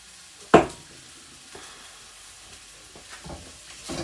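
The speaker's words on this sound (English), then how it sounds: "what we really want is our egg nice and crispy, but runny" An egg frying in a pan for bibimbap gives a soft, steady sizzle, with one sharp clatter near the start and a few faint scrapes after it.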